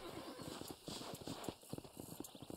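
Horse hooves clip-clop in a steady, rapid rhythm in Red Dead Redemption on PS4, fairly close but soft, with no voices.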